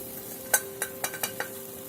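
Parboiled mutton is stirred in a wok for a dhaba-style curry, with five or six sharp scraping strikes of a spatula landing in an uneven rhythm over a faint steady sizzle and a low hum, close and alone.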